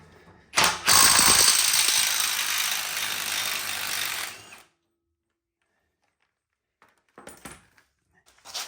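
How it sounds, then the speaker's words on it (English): A ratchet removes the old pinion nut from a Ford Super Duty Dana 50/60 axle during a regear, giving a loud burst of rapid mechanical clicking and grinding for about four seconds, then silence and a few faint clanks. "now the next thing we're going to do is go ahead and get the old pinion nut off"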